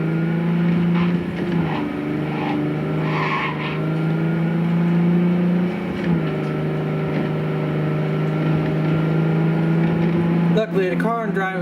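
Car driving in the video game Cyberpunk 2077, a steady engine drone with shifting pitch and brief tire noise, heard continuously and fairly loud; a voice talks over parts of it.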